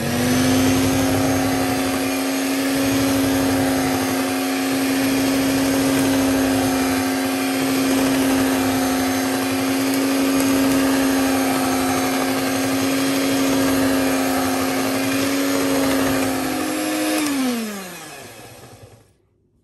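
An electric hand mixer beats butter cake batter for a Jaffna-style cake, whirring loud and steady without pause before winding down and stopping at the end.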